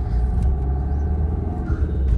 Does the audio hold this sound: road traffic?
yes